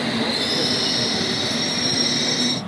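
London train pulling into a station, its wheels giving a sustained high metallic squeal over a steady rolling rumble, close and loud throughout.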